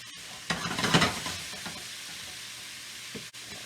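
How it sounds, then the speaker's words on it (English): Italian sausage sautés in a pan with a splash of lime juice, a close broadband sizzle that swells loudly early on and then settles into a steady softer frying hiss, with no talk. "just let that saute a little bit"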